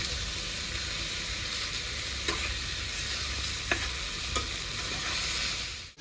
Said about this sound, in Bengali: হালকা করে নেড়ে চেড়ে নিলেই হবে, হ্যাঁ, বেশি ভাজাভাজি করা দরকার না।